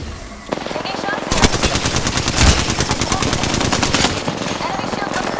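Rapid machine-gun fire in a battle-royale shooter video game, loud and sustained automatic bursts with sharp shots throughout, close and dominant, with faint voices underneath.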